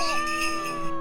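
A cat meows in the video game My Time at Portia, a single drawn-out tonal call, loud and close, with no voices over it.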